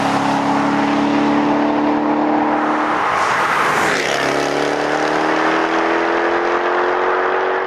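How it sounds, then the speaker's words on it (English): Sports car engines from a Corvette C7, Porsche 911, Audi R8 and Jaguar F-Type pull at wide open throttle from low revs in fourth gear, a loud, close drone rising slowly in pitch with one cut midway. "Now wide open, but from low revs in fourth gear."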